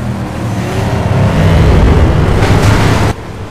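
A car engine in the racing game FlatOut revs hard off the starting line, a loud, sustained droning roar that builds and holds before cutting off sharply near the end, with no talk.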